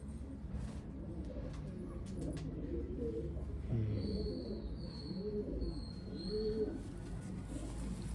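Pigeons, including a golden hen, coo softly and repeatedly in a quiet setting, their low rolling calls coming in a slow series over faint steady background noise.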